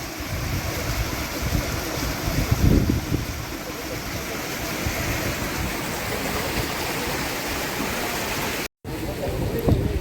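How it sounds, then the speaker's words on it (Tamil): Steady rushing water flows throughout, a broad continuous wash with a brief dropout near the end, at a fishing site in Jaffna, Sri Lanka. "இதுக்கால பார்த்தீங்கன்னா தெரியும் தண்ணி எப்படி ஓடுதுண்டு"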